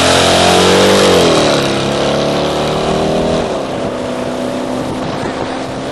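Chevy car engine revving hard on takeoff, a loud, close roar whose pitch climbs, then dips and settles into a steady drone with wind noise.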